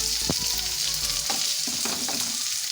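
Onion frying in a pan for Maggi noodles, a loud continuous hiss and crackle of hot oil with a few spoon scrapes and stirring knocks against the pan, close by with no talk.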